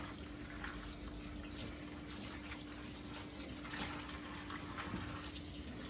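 Vegetables rinsed under a running kitchen tap, a steady, faint rush of water with light splashing throughout and no talking.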